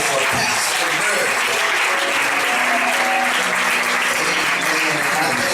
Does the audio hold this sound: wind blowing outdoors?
no